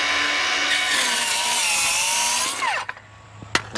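A power saw cuts through wood to square off the end of a piece during skylight removal on a flat roof: a loud, continuous whine that drops in pitch as the blade finishes, then a few knocks.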